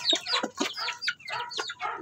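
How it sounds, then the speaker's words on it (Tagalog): Basilan cross Rhode Island Red chickens cluck in quick, uneven bursts close by, several short calls overlapping in rapid succession. "Yan yung ating Pulo Basilan Cross Rhode Island Red."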